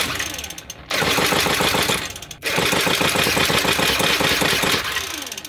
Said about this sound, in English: So the engine would crank, but it would not stay running.